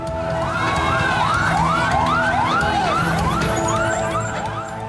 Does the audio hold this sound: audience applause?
no